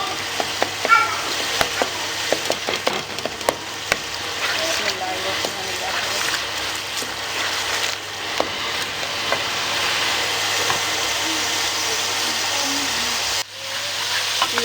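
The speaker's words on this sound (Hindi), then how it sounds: "ये अब हमने इसको 5 मिनट के लिए अच्छी तरह से भूनना है।" Masala frying and being stirred in a pan, with a steady close sizzle and scattered scraping stir strokes throughout, and a brief dip near the end.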